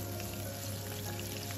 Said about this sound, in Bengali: বাটাকে একটু লাল করে ভেজে নেব